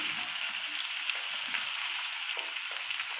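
White onions frying in hot oil for an instant onion pickle give a steady, moderate sizzle with faint crackles and soft stirring taps, no voices.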